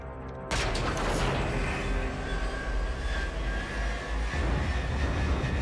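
A dense, roaring barrage of missile launch blasts in Call of Duty: Infinite Warfare starts abruptly and rumbles on continuously, loud and heavy with low booming texture.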